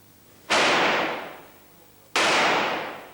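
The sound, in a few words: gunshots from gun owners shooting at a range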